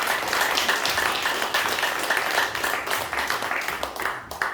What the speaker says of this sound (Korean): 정말 세계적인 기업이 잘 되도록 큰 박수 보내주시기 바랍니다